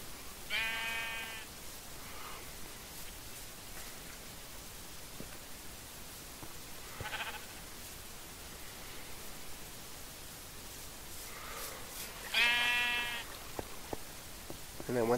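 Minecraft sheep bleat a few times at a distance, separate wavering calls standing out over steady windy background noise.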